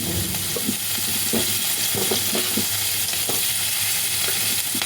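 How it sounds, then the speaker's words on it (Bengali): Onions fry in a hot pan for paneer chilli, giving a dense, constant sizzle up close with scattered scrapes of stirring and no voices. "এরপরে দিয়ে দেবো পেঁয়াজগুলো।"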